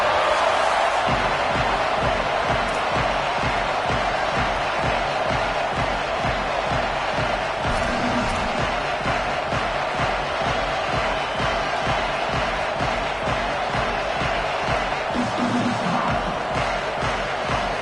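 A 63,000-strong home crowd roars steadily through a college football stadium at elevation before kickoff, a dense, loud, continuous wall of cheering with no letup.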